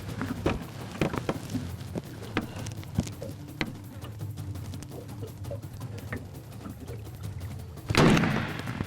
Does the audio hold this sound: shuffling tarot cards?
no